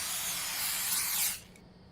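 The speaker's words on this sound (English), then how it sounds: "and then you hear it spraying." Bug spray hisses in a steady, loud burst aimed at rats in the indie horror game The Convenience Store, then cuts off sharply, leaving quiet behind.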